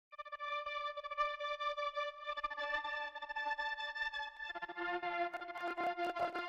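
A dreamy lo-fi piano preset melody soaked in reverb, shaper-box volume automation and other effects, with sustained tones that shimmer and echo, playing alone at moderate level and growing denser toward the end.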